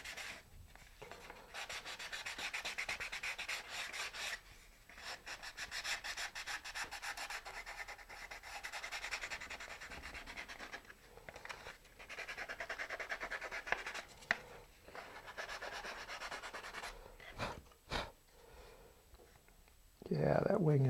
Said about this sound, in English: I'm just going to lightly sand that